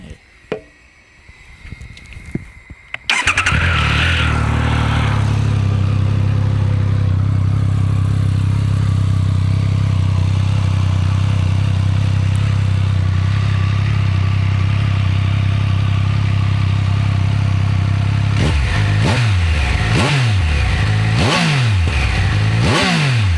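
A Triumph Speed Triple 1200 RX motorcycle engine catches after some fiddling, then idles loudly and steadily before several sharp revs rise and fall toward the end.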